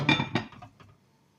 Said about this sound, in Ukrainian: От я і накриваю кришкою.